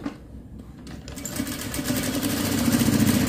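A sewing machine stitches a pillowcase, starting up from quiet and settling into a steady, fast mechanical whir that grows louder and runs continuously, with no talk over it.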